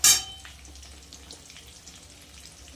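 Ground paste of onion, ginger, tomato, dried chilli and cumin hits potatoes frying in oil for a rohu fish curry, giving a sharp, loud sizzling burst at the start that quickly settles into a faint, steady hiss.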